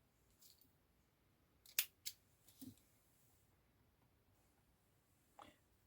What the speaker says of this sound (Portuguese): Esse fio aqui agora, eu vou cortar e vou arrematar.